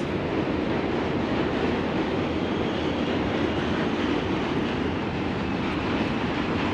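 A subway train rumbling across the Manhattan Bridge in New York City, a loud, steady, broadband roar that holds evenly from start to finish with no voices.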